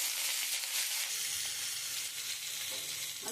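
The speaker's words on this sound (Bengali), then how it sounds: "আমি একটুখানি হালকা করে ভেজে নেব।" Vegetables including bitter gourd and a dried red chili frying lightly in a pan for a mustard-based stalk chorchori, a steady dense sizzle that holds close and loud throughout, with no voices over it.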